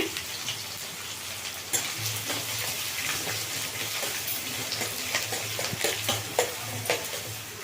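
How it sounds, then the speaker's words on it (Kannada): Garlic and onion fry in a pan for an eggplant and peanut dish with a steady, close crackling sizzle. Repeated scraping stirs and spattering pops run through it. "ಬೆಳ್ಳುಳ್ಳಿ ಇದು ಸ್ವಲ್ಪ ಫ್ರೈ ಆಗಲಿ ಈರುಳ್ಳಿ"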